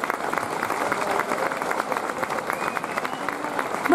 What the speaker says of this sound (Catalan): I sisplau que continuï aquest aplaudiment cap al nostre equip tècnic de so, de llum i de muntatge.